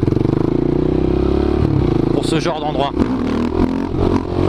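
KTM Duke 690 café racer motorcycle with a restricted A2 engine, a loud steady single-cylinder drone under a rider's talking, with a brief rev and some wind clatter.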